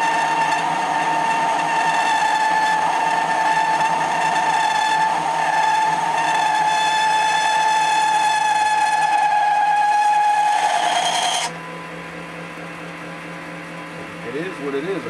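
Sustained high-pitched squeal from an MX-210V lathe machining its compound for a thrust bearing, loud and steady with stacked harmonic tones for about eleven seconds before cutting off abruptly, leaving quieter machine hum.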